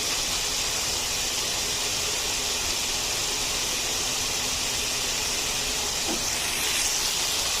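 Marinated meat and fish fry together in hot oil for fried rice, giving a steady, moderately loud hiss of sizzling that continues evenly without pause.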